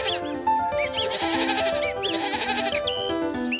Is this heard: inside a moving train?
no